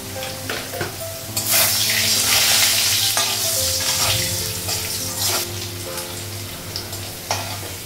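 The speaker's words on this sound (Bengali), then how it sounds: "আলুটা ভাজা হয়ে গেছে।" Potatoes seasoned with turmeric and salt fry in a pan in a home kitchen, giving a steady sizzle with occasional stirring scrapes and bursts of louder hiss.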